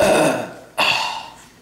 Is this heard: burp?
yes